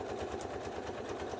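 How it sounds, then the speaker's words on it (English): A sewing machine stitches through thick Pellon batting for a sunglasses case, giving a continuous close whirring hum with no pauses. "As you can see, I'm not having any trouble stitching through this."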